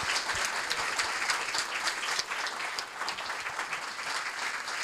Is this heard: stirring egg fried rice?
no